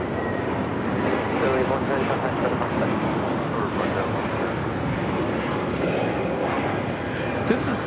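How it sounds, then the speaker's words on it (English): Spirit Airlines Airbus A321neo taking off from Los Angeles International Airport, bound for Salt Lake City; a continuous jet roar of moderate loudness, heard from a distance and sustained throughout. "This is Spirit Airlines Flight 110 taking off to Salt Lake City on the A321neo."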